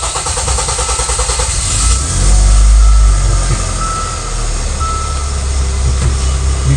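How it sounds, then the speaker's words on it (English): A 2015 Hyundai Santa Fe engine cranks and catches with a loud low rumble, then settles into a steady idle alongside a repeating electronic beep. "Yeah, starting this car."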